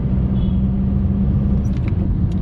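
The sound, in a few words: Skoda Octavia driving, bouncing on the road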